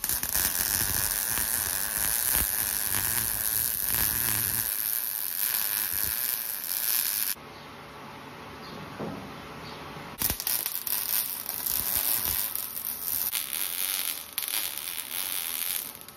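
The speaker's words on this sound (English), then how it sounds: "Weld the back, push it down, weld it into place, and weld it all the way around." Welding patch panels into an Oliver finish mower gives a crackling, sizzling buzz in steady bursts, with a quieter pause in the middle before the arc resumes, and no voices.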